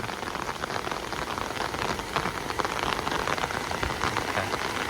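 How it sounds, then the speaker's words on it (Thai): Heavy rain pours steadily onto surfaces around a home garden, a dense continuous hiss of drops with no voices present. "ฝนมันตกซ้ำนี่ค่ะบรรยากาศบ้านเรา"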